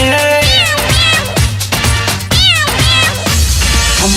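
Repeated cat meows dropped into a Bhojpuri song, several rising-and-falling cries in a rhythmic pattern over loud music with bass and percussion.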